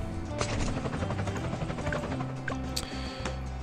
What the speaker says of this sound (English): What are we going to get? A helicopter.